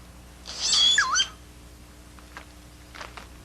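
A male crested oropendola at its nesting colony in green forest gives one loud liquid gurgling call with a bright whistled slide, followed by faint rustles and soft distant sounds.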